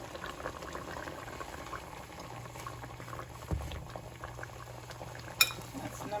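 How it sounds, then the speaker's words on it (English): Coconut curry sauce at a low simmering boil as salmon pieces go in skin side down, a steady soft bubbling with a light clink near the end and no voices. "now that my sauce has come to a boil, I'll be adding my fish"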